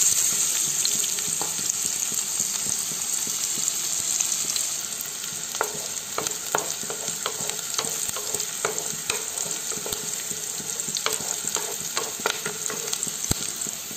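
Finely chopped onions fry in desi ghee with cumin and garlic for a village-style Himachali saag, a strong continuous sizzle close up, overlaid by frequent sharp scrapes and clicks of a spoon stirring the pan.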